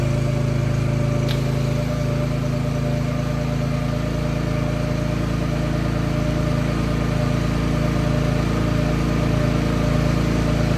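A softwash spray rig runs outdoors on a windy day, its steady motor hum droning loud and unbroken with a constant low rumble throughout, no voices over it.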